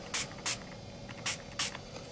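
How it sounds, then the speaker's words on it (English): Glimmer Mist is sprayed onto a tissue paper butterfly in four short, sharp hissing bursts, two close together, a gap, then two more, with quiet between. "I'm just going to go ahead and spray it."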